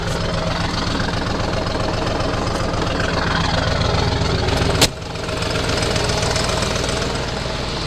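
A Ford 7.3 diesel V8 in a Super Duty truck idles after a cold start with a loud, steady knocking clatter. A brief sharp bang near the end breaks it, then the idle carries on.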